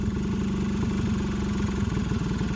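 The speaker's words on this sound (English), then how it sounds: "Just sitting there idling." A Yamaha Razz scooter engine that had sat unused for 11 years idles steadily nearby, a low, even putter with a slight rattle and no talk.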